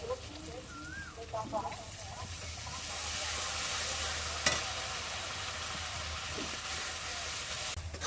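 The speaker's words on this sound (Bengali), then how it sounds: "এবার একটু অল্প করে মশলা ধোয়া জল দিয়ে দেবো" Spice-rinsing water goes into country chicken curry frying in mustard oil, and the sizzle swells into a loud, sustained steamy hiss. A few soft clinks and brief vocal sounds come before it.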